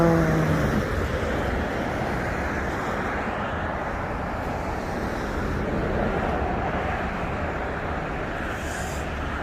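Steady road traffic from many cars on a congested morning road, heard from inside a slow-moving truck as a continuous broadband rumble with some wind noise, no speech.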